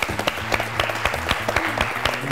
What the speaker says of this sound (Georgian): აპლოდისმენტები კიდევ ერთხელ ინდიაურას